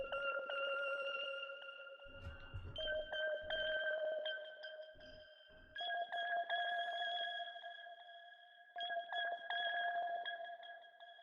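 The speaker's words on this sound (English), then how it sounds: "this crazy sounding arpish kind of like lead that follows the chord" A processed, arpeggiated synth lead plays fast repeating bright notes that shift pitch with each chord change, with echoey tails and brief gaps between phrases.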